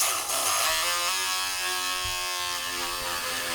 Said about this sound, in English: with this spade bit kind of cutting that outline, it helped a little bit, and we ended up with a much better hole